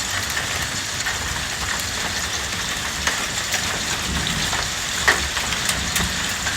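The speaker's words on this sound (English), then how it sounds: "Sounds like there's a little hail in it, but I don't see any. But I can hear it, or they're awful heavy raindrops." Heavy rain pours down steadily during a Western Kansas thunderstorm, a dense and continuous hiss broken by a few louder drops or bits of hail striking nearby.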